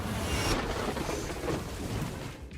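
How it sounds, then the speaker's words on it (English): Lightning strikes a tree beside a car, making it explode and crash onto the roof, heard as a loud, rumbling, crackling roar that swells and rolls on before fading. "Lightning struck the tree beside his car, causing it to explode and crash onto the roof."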